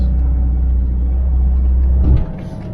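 A heavy truck rolls along a bumpy country road in Northumberland, its deep steady rumble loud and close, ending in a brief jolt and a drop in noise.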